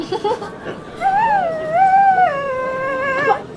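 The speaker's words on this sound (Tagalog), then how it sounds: "Ang ingay ng asong yan?" A dog howls in a long, wavering, mournful tone, preceded by a few short yelps, loud and close.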